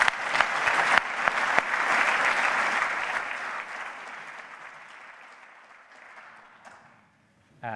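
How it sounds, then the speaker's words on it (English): A conference audience applauds the area chairs with sustained clapping that swells early, then gradually thins and fades out, with a voice starting again at the very end. "So maybe we can give them a round of applause already."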